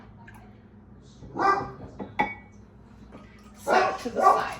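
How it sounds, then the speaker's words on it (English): Dogs bark in two short bursts, fairly close, with a person speaking briefly between them. "Pardon the dogs barking."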